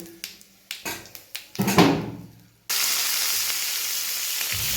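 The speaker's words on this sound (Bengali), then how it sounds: "এই যে কড়াই দিয়ে দিচ্ছি 5 ফোড়ন আর শুকনো লঙ্কা।" Panch phoron and dried chillies drop into hot oil in a kadai: a run of sharp crackling pops builds into a bigger burst, then gives way to a loud, steady sizzle.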